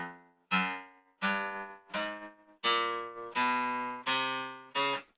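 Single fretted guitar notes are picked one at a time in a finger exercise, eight clear plucks in a steady rhythm, each ringing out and decaying before the next, close and alone.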